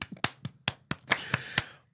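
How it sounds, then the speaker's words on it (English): Slow hand claps, about eight sharp separate claps spaced roughly a quarter second apart over two seconds, close and fairly loud with no talking. "Double clap. Slow clap"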